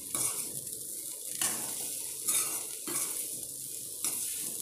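Drumstick and grated coconut thoran being stirred in a pan, Kerala style: steady sizzling broken by repeated scraping strokes of a spoon, roughly every second, close and clear with no talking.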